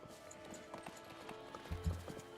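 Horse hooves clip-clop in a ranch video game, a soft steady patter of steps with a couple of heavier thuds near the end, quiet and alone without talk.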